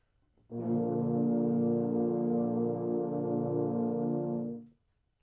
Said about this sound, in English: when the euphoniums play a chord together, they sound just like this